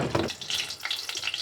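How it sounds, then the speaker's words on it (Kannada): Mustard seeds sizzle and crackle in a pan of hot oil during a home tempering, a steady close hiss with bright popping bursts and no talk. "ಎಣ್ಣೆ ಸ್ವಲ್ಪ ಬಿಸಿ ಆದಮೇಲೆ ಸಾಸಿವೆ ಒಂದು ಚಮಚ"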